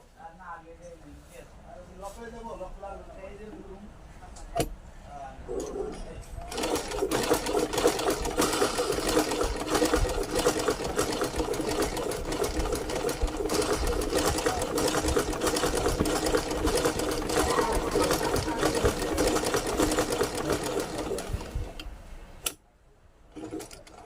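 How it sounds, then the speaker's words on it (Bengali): A Singer sewing machine stitches a test piece of fabric, running in a steady continuous whir for most of the stretch after a brief start, with a person talking at first and a short pause near the end. "এই সেলাইটি চেক করে দেখাবো যে মেশিন এখন সেলাই হচ্ছে কিনা"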